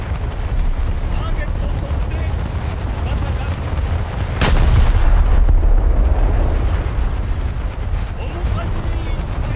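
Warship anti-aircraft guns and main battery firing in World of Warships, a dense continuous rumble of rapid gunfire and booms with one sharp heavy blast partway through, loud and sustained.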